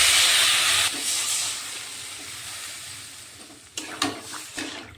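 Water is poured into a hot pan of fried masala for a Bengali katla fish curry, setting off a loud steady sizzling hiss that fades gradually, then a few clinks and stirring knocks near the end.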